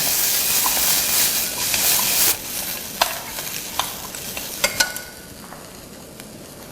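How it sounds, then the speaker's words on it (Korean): Vegetables being stir-fried for a brown gravy sauce, a steady close sizzle and hiss of the pan with scraping stirs, easing after a couple of seconds into quieter frying punctuated by sharp utensil clicks. "불 조절을 잘 하시면서 충분히 볶아주세요."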